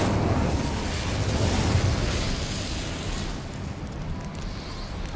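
The Incendio fire spell in Hogwarts Legacy bursts out as a broad, roaring whoosh of flame, loud and sustained for several seconds before slowly tapering off.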